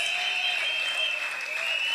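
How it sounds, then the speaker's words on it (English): Thousands of people applauding together at a large outdoor political campaign meeting in St Augustine, a steady dense wash of clapping and crowd noise that holds evenly for the whole stretch. "give yourselves a round of applause"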